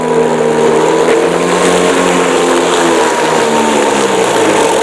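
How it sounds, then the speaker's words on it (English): A loud, steady Toro 60V Flex-Force cordless 21-inch mower motor whirs continuously, its pitch rising and straining slightly under load as it works through grass. "Hear the engine speed up when I hit load."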